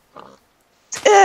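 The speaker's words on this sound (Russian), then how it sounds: "Свинья, ты куда меня повезла-то?" Pig oinking in Minecraft: a short low grunt, a pause, then a louder, squealing oink with a bright tonal edge, close and clear with no talk over it.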